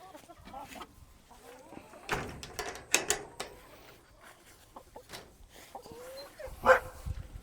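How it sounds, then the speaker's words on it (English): A puppy barks and whimpers near clucking chickens outdoors in hot sun, with a few sharp yelps and thin whines rising over a busy yard of hens, close by and fairly loud in bursts. "Oh, puppy dog."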